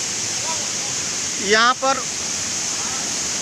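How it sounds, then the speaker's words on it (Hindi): Water falls steadily from the rock at Durga Dhara spring in Amarkantak, a constant rushing hiss throughout, close and loud, while someone speaks briefly in Hindi partway through. "जहाँ से पानी यह निकल रहा है, पानी गिर रहा है।"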